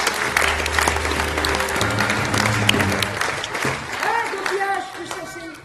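Audience at a show applauding an actress, a full, sustained round of clapping from a crowd, with music and voices sounding underneath and over it as it carries on.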